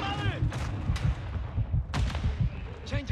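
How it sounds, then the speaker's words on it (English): Mortar strike in Call of Duty Modern Warfare 2 (2022): repeated heavy thuds and blasts land in quick bursts amid dense gunfire, with radio-style voice chatter running under the combat noise. "Hostile mortar strike in the area."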